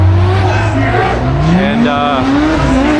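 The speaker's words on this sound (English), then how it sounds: "the sound of drifting" Drifting cars' engines roar and rev at high pitch with rising whines, over a sustained screech of tires at a winter drift event; a voice is briefly audible under the noise.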